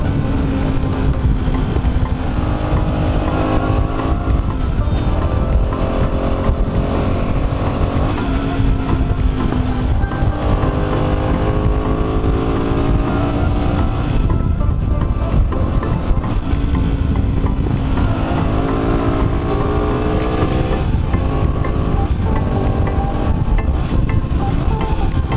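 A motorcycle engine runs steadily while the rider works the clutch to shift gears, its pitch repeatedly climbing and dropping as revs rise and fall, loud and close throughout with no talking.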